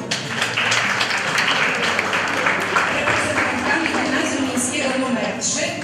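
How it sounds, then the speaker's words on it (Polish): A crowd at a Polish school exchange gathering claps for a group of girls, a brisk patter of many hands with distinct sharp claps, running steadily while voices talk over and around it. "Brawa dla dziewczyn."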